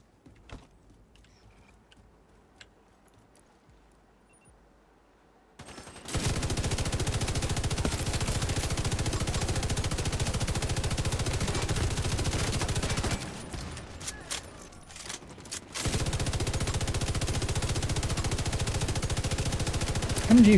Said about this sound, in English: MG5 designated marksman.